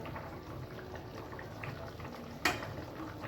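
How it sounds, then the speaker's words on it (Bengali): Potatoes simmer in a pot with a soft, steady bubbling, and one sharp clink near the end, like a lid or utensil touching the pot. "দেখি আলুগুলো সেদ্ধ হয়েছে নাকি।"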